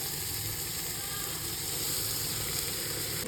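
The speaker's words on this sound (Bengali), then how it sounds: "একটু হালকা হালকা ভাজা করে একটু হালকা চচ্চর চচ্চর আওয়াজ হবে" Rice frying in ghee with whole spices, cashews and raisins makes a soft, continuous hissing sizzle, even and fairly faint throughout.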